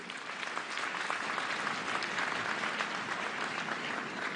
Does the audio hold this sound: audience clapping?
yes